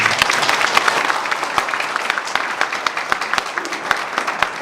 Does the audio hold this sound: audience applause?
yes